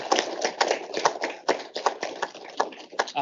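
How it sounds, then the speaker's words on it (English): A small audience claps after an event panel, with uneven, scattered claps that come close together in a brief burst. "Round of applause for everyone here."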